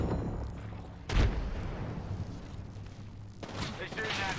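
Gunfire in the video game Apex Legends, played at max settings: a sharp, loud burst hits near 1 second, then a steady rumble of distant shooting, and a second heavy volley of firing arrives near the end.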